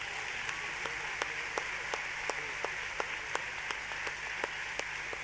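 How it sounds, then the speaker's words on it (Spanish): A church congregation applauds during a Sunday morning service, scattered claps ringing out in an uneven rhythm over a steady hiss, fairly faint and without speech. "Aplaudimos al Señor"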